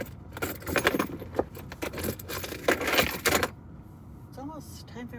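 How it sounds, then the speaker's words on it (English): Keys jangling and clinking in repeated bursts close by, rattling irregularly for a few seconds before fading into quieter sounds. "Where are my keys?"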